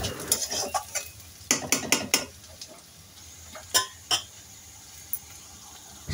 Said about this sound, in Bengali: এখন আমি তেলের উপর পেঁয়াজ কাঁচামরিচগুলো হালকা গোলাপি করে ভেজে নেব।